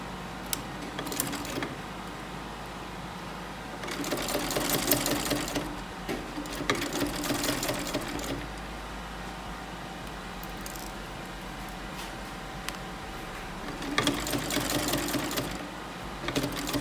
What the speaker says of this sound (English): go back to where you ended, do a very neat lock stitch, and continue sewing